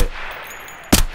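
A single loud gunshot in the video game Escape from Tarkov cracks out near the end, following a low, steady background hum.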